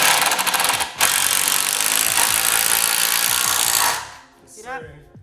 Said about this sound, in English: Take a drill, take a screw, put that thing in there nicely.